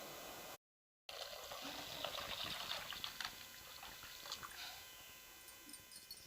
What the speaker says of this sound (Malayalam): ഇപ്പോൾ വെള്ളം 1 ലിറ്റർ ഒഴിച്ചു, പാലും 1 ലിറ്റർ ഒഴിച്ചു.